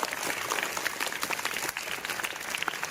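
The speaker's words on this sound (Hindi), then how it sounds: "ताली तो बजा लो" Students clap in a brief, fairly soft round of applause, an even patter of overlapping hand claps with a few sharper strikes poking through.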